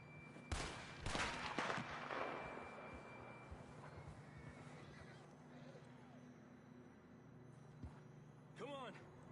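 In Red Dead Redemption 2, a horse whinnies while hooves clop and scattered gunshots crack, with a voice speaking over the scene. The loudest bursts come early and a further neigh rises near the end.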